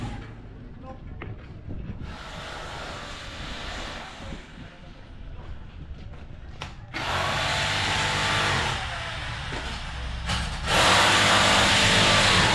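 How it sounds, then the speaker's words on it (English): Jackhammering at a house construction site in the Philippines, a loud harsh pounding that comes in stronger after a quieter opening, with a voice talking over the early part. "Doing here jackhammering."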